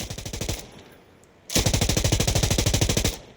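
SIG M250 light machine gun in Insurgency Sandstorm fires two bursts, a short stutter of rapid shots, a pause, then a longer loud, steady stream of gunfire at close range.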